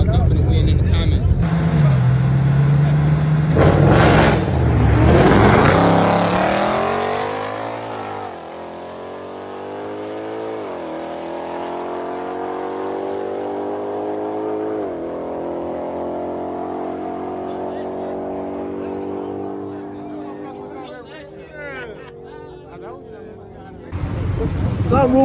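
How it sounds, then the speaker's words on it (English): A Ford GT500 and a BMW M8 race side by side, engines revving hard, then rising in pitch through repeated gear shifts under a loud, sustained roar. "we got the GT500 versus BMW M8"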